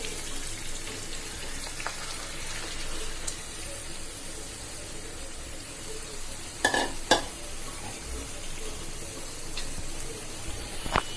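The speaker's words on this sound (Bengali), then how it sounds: "পেঁয়াজ ভাজা হয়ে গেল, এবার আমি মশলা মেখে রাখা লইট্টা মাছগুলো দিয়ে দিচ্ছি।" Spiced Bombay duck fish frying with onions in a pan, a continuous close sizzle with a few sharp scraping stirs midway, no voices.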